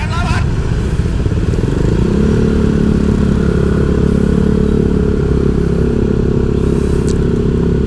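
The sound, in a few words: motorcycle engine and exhaust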